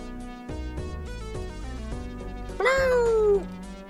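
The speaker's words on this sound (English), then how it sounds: "It's my cat going." A house cat lets out a loud, drawn-out meow that rises then slowly falls, heard clearly over steady game music playing in the background.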